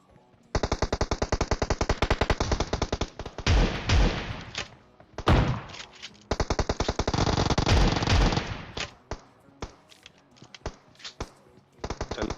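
Automatic weapons fire in the PUBG Mobile video game at Rozhok: long rapid bursts of machine-gun shots alternate with scattered single cracks and thuds, loud and close, with no talk over them.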